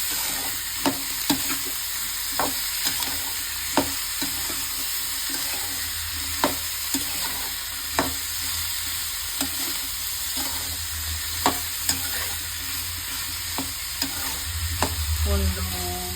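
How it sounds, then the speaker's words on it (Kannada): Boiled kabuli chickpeas are stirred in a pan on low flame: a steady sizzling hiss, with regular sharp scrapes of the spoon against the pan every second or so, up close and with no talking. "ಸೊ ಅದನ್ನು ಹಾಕಿ ಕಾಬಲ್ ಕಡಲೆ ಚೆನ್ನಾಗಿ ತಿರ್ಸ್ಕೊಳ್ಳಿ"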